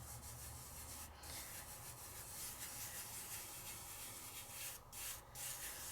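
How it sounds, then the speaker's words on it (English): Metallic flakes are lightly burnished over glued stencil areas, a faint, steady soft rubbing with a few brief brushing strokes and no speech. "It's just that light burnish over the glued areas."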